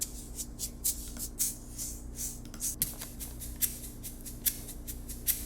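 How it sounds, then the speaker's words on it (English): A quiet, dry shaking percussion loop ticks and rattles in a steady rhythm, with a faint low hum underneath. "I'm just going to look for like a shaker or a tambourine and find something that'll work."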